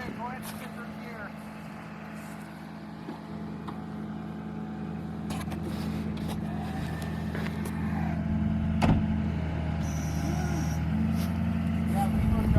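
A vehicle put in gear in a muddy field, its engine humming low and steady as it strains to pull free, revs gradually building toward the end, with voices talking nearby.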